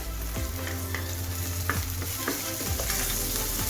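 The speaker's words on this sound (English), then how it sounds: "we're gonna throw in our garlic, just like that. And of course our chili." Garlic and chili fry in a pan with spring onion for chicken spring rolls, an even sizzling crackle with occasional stirring scrapes, close and steady with no talk.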